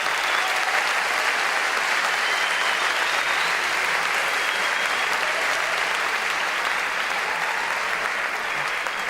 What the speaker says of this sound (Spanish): Les pido un fuerte aplauso por ustedes que agotaron las entradas del salón en 10 días.